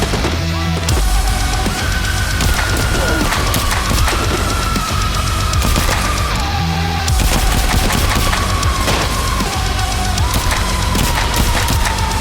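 Pistols and a shotgun fire in a zombie video game: loud, continuous volleys of shots and booms with a constant heavy blast of gunfire and no pauses.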